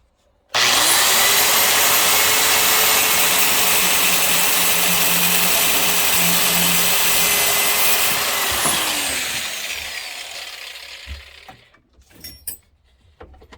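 A loud, continuous high-pitched metal-cutting whine from a spinning cutting wheel cutting metal on a 1978 Plymouth Road Runner clone, steady for several seconds before winding down and fading, followed by a few faint clunks.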